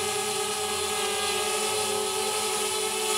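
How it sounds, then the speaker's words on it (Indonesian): A DJI Spark drone hovers nearby, its rotors giving off a steady, loud, high-pitched buzzing whine with constant tonal hum and no breaks or talk. "Kita menerbangkan drone menggunakan aplikasi Litchi"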